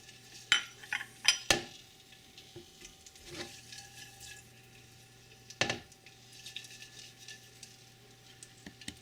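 Ten garlic cloves frying in a pan for garlic chutney, with a soft, steady sizzle beneath sharp clinks and scrapes of a utensil stirring against the pan, heard close and without speech.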